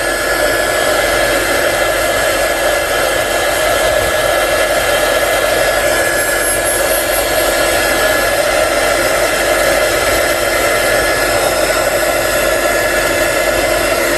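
A steady, loud rushing whoosh of a heater blowing hot air, constant and unchanging throughout, with a faint hum underneath and no voices.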